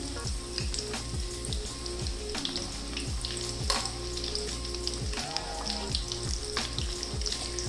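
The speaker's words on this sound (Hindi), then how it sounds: "देखें ऐसे गोल्डन कलर आने तक चारों साइडों से इसको फ्राई कर लेना है" Chicken drumsticks deep-fry in hot oil until golden, with a loud, continuous bubbling sizzle and occasional clinks and splashes as pieces are turned, and no talking.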